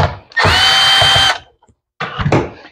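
A power driver fitted with a T27 Torx bit spins out the cover screws on a chainsaw that won't start. One loud, steady whirring burst is followed by a pause, then a shorter, rougher second burst.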